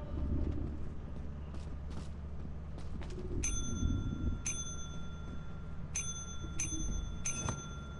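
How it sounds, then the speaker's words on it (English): A bell in the video game Lethal Company is rung several times in quick bright strikes, some close together, over a low background hum and faint movement noises. "Go ahead, ring the bell."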